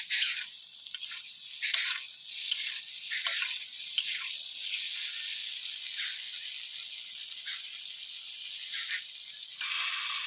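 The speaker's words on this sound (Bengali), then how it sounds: "ফুলকপি আলু মাছ দিয়ে ঝোল বানানোর জন্য আমি প্রথমে সবজিগুলো ভেজে নিয়েছিলাম।" Cauliflower, potato and other vegetables fry in hot oil for a rohu fish curry, a bright continuous sizzle with rhythmic surges as the pieces are stirred, heard close and alone.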